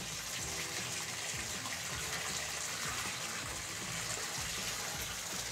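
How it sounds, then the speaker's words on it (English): Water gushing steadily from a shower tap just after a Delta T17T cartridge install, a continuous even rushing hiss with no talk. "now, when I turn my water back on"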